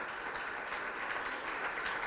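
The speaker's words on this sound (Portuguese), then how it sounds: "Você pode aplaudir ao Senhor?" Church congregation applauding the Lord during a worship service, a steady, dense wash of clapping that holds evenly throughout without any voices over it.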